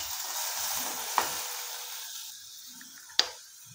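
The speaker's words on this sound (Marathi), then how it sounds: "आता थोड्या वेळ टोमॅटो परतू आपण." Tomatoes sautéing with Maggi noodles in a pan give a steady hiss and sizzle that gradually fades, broken by two sharp metallic clicks of a utensil against the pan.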